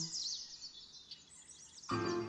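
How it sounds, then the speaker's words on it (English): Birds chirping and singing faintly in the distance, light high calls over a quiet background, with a brief louder rustle near the end. "Birds sang."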